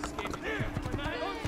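A horse in the Renaissance-era action game Assassin's Creed clip-clops and snorts nearby, hoof thuds falling in an uneven rhythm with a soft whinnying note, while a person talks over the game audio.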